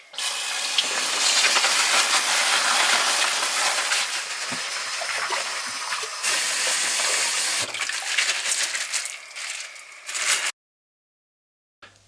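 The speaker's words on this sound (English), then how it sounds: "Wash the food thoroughly afterwards." Water gushing from a tap as food recovered from a dumpster is rinsed, a loud steady hissing spray close by that shifts in tone as items pass under the stream, then cuts off abruptly near the end.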